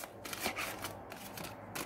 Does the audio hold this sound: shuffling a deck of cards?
yes